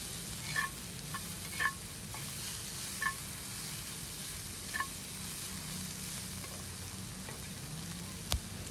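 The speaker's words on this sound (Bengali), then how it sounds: "এবার থোড়টাকে আমি ভাজতে থাকবো।" Salted banana stem fries in a little oil with a soft, continuous hiss, punctuated every second or so by faint clinks as it is turned in the pan, ending with a single sharper tap; no voices.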